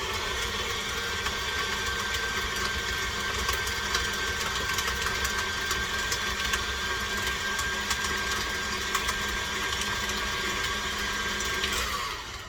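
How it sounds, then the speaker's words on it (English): An electric mixer beats cream cheese for a cheesecake, a loud steady motorized whir running continuously for the whole stretch before cutting off at the end. "we're going to beat the cream cheese until it's smooth"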